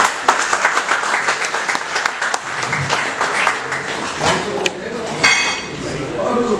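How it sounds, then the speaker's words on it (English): An audience applauds for a woman about to give an evening talk, the clapping mixed with voices and some clinking of dishes, steady throughout and fairly close. "Can we have a big clap for ma'am?"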